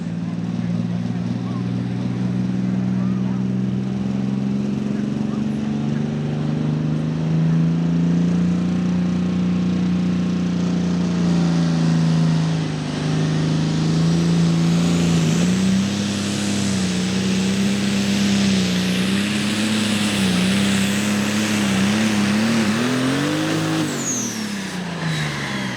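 A diesel-powered Allis-Chalmers tractor roars loud and sustained during a night tractor pull in Ardmore, Tennessee, its engine note climbing and wavering under load before easing off near the end, with an announcer's voice partly under it.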